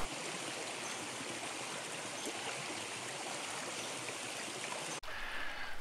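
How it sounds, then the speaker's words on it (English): A brook swollen after heavy rain rushes through woods on a hiking trail, a dense, steady roar of flowing water that continues unbroken and close, with a brief cut near the end. "I've never seen this much water in the brook"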